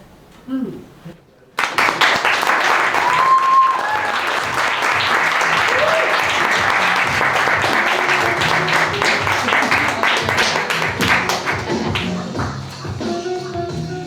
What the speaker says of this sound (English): Again, clap for the poet.